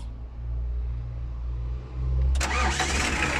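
A Nissan Vanette diesel van with an overheating problem cranks over after its glow plugs have warmed, then catches and settles into a steady, close idle.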